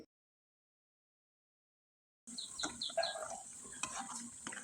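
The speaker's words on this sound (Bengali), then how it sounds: "ভালোভাবে উল্টে পাল্টে একবারে মুচমুচে করে ভেজে নিলেই হয়ে যাবে" Kol pitha frying in oil until crispy: after a silent start, a steady close sizzle of frying begins, dotted with light scraping and clinking as the pieces are turned in the pan.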